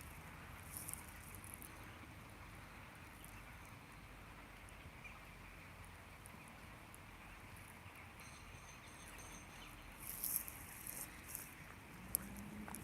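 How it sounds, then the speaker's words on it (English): Rain falling outdoors makes a faint, steady, even hiss of pattering drops that runs throughout, with a few slightly louder taps near the end and no voices. "Now it starts to rain here even more."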